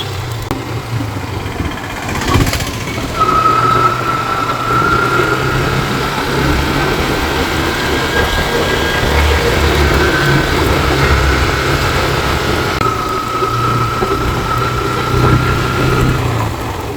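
Motorcycle ridden up a hill road on the Thanchi road in Bandarban, its engine droning steadily and loudly throughout with a sustained whine and continuous wind rumble.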